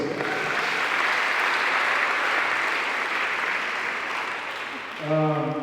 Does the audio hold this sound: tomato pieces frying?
no